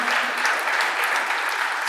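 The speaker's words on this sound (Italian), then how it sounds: "Facciamogli un applauso" A church congregation applauds a family called to the front during a Sunday service, a steady, dense wash of clapping at even volume for a couple of seconds.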